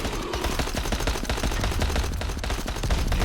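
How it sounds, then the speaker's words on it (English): Dense shotgun blasts and SMG bursts in a Dying Light boss fight, a loud continuous barrage of rapid overlapping shots with no break across the whole stretch. "Shotgun and the SMGs are doing hell of damage"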